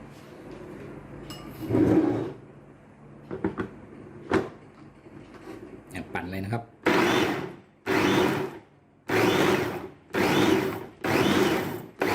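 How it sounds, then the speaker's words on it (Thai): Electric blender grinding roasted garlic and chili for a Thai dried-mackerel chili paste, run in about five loud pulses of a second or so each near the end, after clattering and someone talking. "วันนี้เราใช้เครื่องปั่นอย่างเดียวนะครับ"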